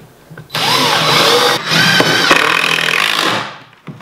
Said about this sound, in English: I'm going to pre-drill these holes at least halfway through just so I don't split this wood.